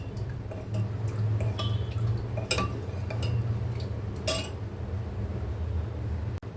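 A spoon stirring cornflour batter seasoned with salt and pepper in a bowl gives off sparse, light clinks and ticks over a steady low hum.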